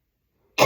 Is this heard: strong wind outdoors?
no